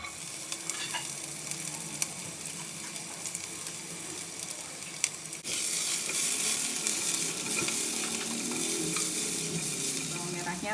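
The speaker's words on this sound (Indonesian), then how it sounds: "Biasanya bawang merah lebih lama proses masaknya, jadi saya masukin bawang merahnya dulu, kita tumis sampai kuning dan wangi." Shallots sautéing in hot oil in a pan, a constant close sizzle with occasional stirring scrapes, growing louder and denser partway through, no voices.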